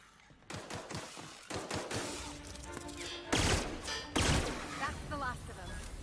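Gunfire in The Outer Worlds opens with a quick run of sharp shots, then heavier blasts and crashing impacts follow, with a voice talking over part of it.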